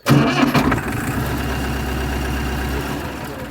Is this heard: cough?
no